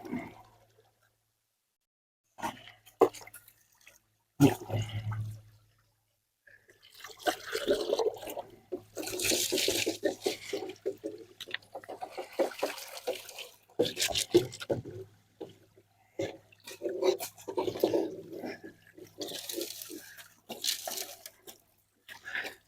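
Water splashes and sloshes in bursts as a small river gold sluice is tilted and rinsed out during a panning cleanout, with brief gaps of quiet between the wet, irregular splashes.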